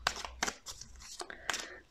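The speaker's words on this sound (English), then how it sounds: "As I'm shuffling the cards, say your name out loud in your head." A deck of tarot cards being shuffled up close, with rapid papery riffles and slaps in uneven bursts over a couple of seconds.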